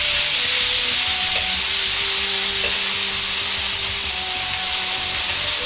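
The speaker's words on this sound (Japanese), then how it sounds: "中華鍋をよく温めてから大根を入れて炒めていきます。" Daikon radish sizzles loudly and continuously in a hot wok, with a steady frying hiss and faint scraping as it's stirred, with no voices.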